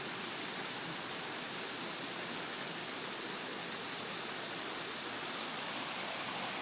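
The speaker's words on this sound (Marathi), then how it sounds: "हा धबधबा" A hidden waterfall on a trek in upper Kharghar, Navi Mumbai, pours as a steady, broad rushing roar with no breaks, loud and close throughout.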